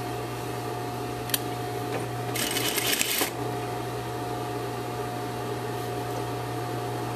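A sewing machine stitching knit T-shirt cuff pieces together runs in one quick burst of rapid, steady needle chatter lasting about a second, set against a constant low electrical hum.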